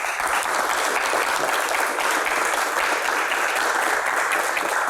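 Sustained, dense applause from a large audience at a Q&A event, welcoming Dato Sri Tahir onto the stage; loud and steady throughout with no gaps.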